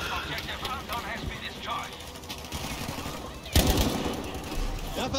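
Covering gunfire rattles in Battlefield V's jungle setting, with bursts of automatic shots crackling under wind and a louder volley near the end.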